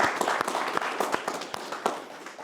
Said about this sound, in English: So big round of applause for our mayor as well